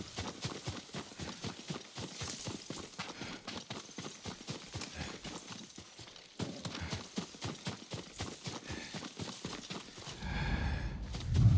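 Steady clip-clop of a horse's hooves walking through the game world of Ghost of Tsushima, an even rhythmic series of hoofbeats heard alone, with a short pause midway and a louder rumbling burst at the very end.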